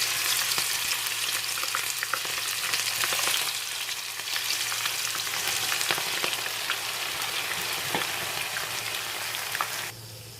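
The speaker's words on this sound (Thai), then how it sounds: "ร้อนใช้ได้แล้วเพื่อน เราก็มาทอดเลย" Battered dandelion flowers deep-frying in a hot pan of oil, a steady dense sizzle with crackling pops that continues close and loud throughout, no voices.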